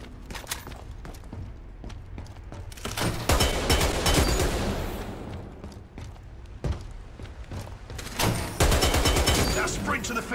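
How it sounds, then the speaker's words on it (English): Rapid gunfire from a video game shooting-range drill, bursts fired at a training dummy while tracking side to side, loud and sustained across the stretch with brief pauses between volleys and faint game sounds underneath. "Shoot the dummy. Track your aim from side to side."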